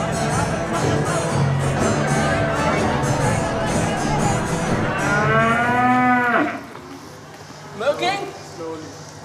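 Several dairy cows mooing loudly and repeatedly on a farm in Northern Ireland, long drawn-out lowing calls overlapping amid a busy barn background, ending in a few quieter calls.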